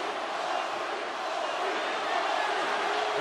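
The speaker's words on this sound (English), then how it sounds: "crowd chanting for Foley" A large arena crowd at a 2001 WWF Invasion wrestling match chants for Mick Foley in a dense, steady roar of many voices that swells slightly toward the end.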